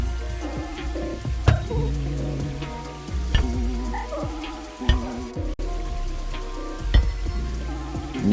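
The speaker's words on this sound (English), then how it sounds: "this downpour is making everything feel soggy, like a pile of wet biscuits" A rain downpour in the Minecraft video game makes a steady, even patter throughout, with repeated low croaking calls and a few brief clicks over it.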